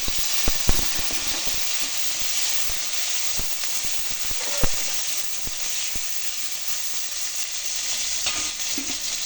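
Curry leaves and small sambar onions fry in oil in a pan for a Tamil dry fish curry, giving a steady close sizzle with occasional sharp pops and stirring scrapes, and no talk.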